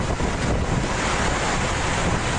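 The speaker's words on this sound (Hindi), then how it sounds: "नदियों का पानी पुल के ऊपर से गुजर रहा है।" Floodwater from a monsoon-swollen river rushes over a bridge in India, a loud, unbroken roar of churning water mixed with wind buffeting, steady throughout with no speech.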